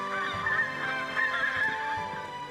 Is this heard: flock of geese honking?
yes